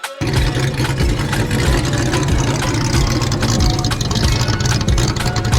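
A 1976 Mercury Meteor's engine runs close by through a full-tube exhaust exiting at the side ahead of the rear wheel, a loud, rumbling, steady idle with a throbbing low pulse throughout.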